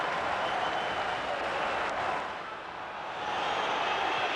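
A large football stadium crowd roars in a steady, dense wash of cheering and applause after an Arsenal goal, swelling and dipping slightly but never stopping, with no voices standing out.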